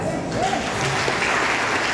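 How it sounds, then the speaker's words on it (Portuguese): A church congregation at a Santa Ceia service claps together in a brief, continuous patter of applause, with voices and a faint tonal sound mixed underneath. "Palmas de Jesus."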